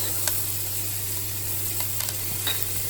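Sausage and beans with celery, carrot and thyme sautéing in a pan, giving a steady, soft sizzle with faint stirring taps throughout, no voices.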